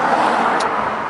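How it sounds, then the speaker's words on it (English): Road traffic queues at roadworks with traffic lights outside an office in Haywards Heath, a steady broadband engine and tyre rumble that is loud and continuous, with no talk. "Forgot we'd got roadworks right outside the office. So we've got traffic lights and queues."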